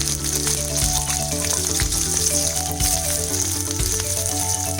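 Onion, curry leaves and red chilli fry in hot oil with a steady, close sizzle, while a soft tonal backing of music runs underneath throughout.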